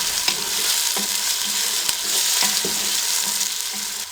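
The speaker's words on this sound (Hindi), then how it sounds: "टमाटरों को 1 से 2 मिनट के लिए हम भून लेंगे।" Chopped tomatoes fry and sizzle in a pan for mutton deghi qorma, a steady hiss broken by several sharp scrapes and stirs of a spoon, close and loud with no talking.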